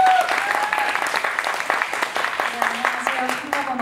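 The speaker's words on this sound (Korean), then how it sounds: "박수 부탁드리겠습니다." An audience at a youth acting contest breaks into brisk, close applause that carries on throughout, with a voice speaking over the clapping.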